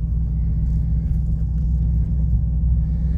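A 1969 Mercury Marquis, an original car, gives a steady, deep engine rumble on a road test drive, continuous and fairly loud from inside the moving car with no talking.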